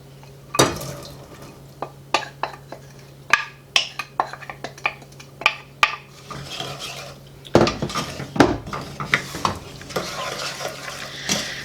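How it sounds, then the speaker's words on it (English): A spoon stirring a sugar mixture in a pot for homemade ginger beer, close and busy: repeated clinks and scrapes of metal against the pot in an uneven rhythm, growing denser and noisier toward the end. "you're just going to stir that all in"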